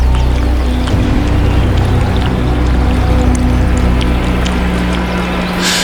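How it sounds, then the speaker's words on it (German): River water churns and splashes hard and continuously, a loud, dense rushing wash during an African wildlife migration at a crossing where antelope are attacked. "Wasser spritzt hoch."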